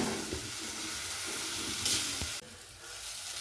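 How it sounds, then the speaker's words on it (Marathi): A mix of chili powder, red chili and turmeric fries in a pan while being stirred, giving a soft, steady sizzle with a few scraping clicks and a brief brighter hiss near the end. "काळं तिखट, लाल तिखट, थोडीशी हळद, हे सगळे मिक्स करून 1 मिनिटभर परतून घ्यायचं"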